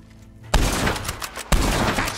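Gunfire in the Western video game Red Dead Online: two loud, sharp gunshots about a second apart, each with a ringing tail, standing alone with no talk.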